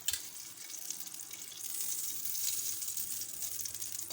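Ghee sizzles in a frying pan while paratha is being made, a dense bright hiss that builds slightly and holds steady throughout, with no talking.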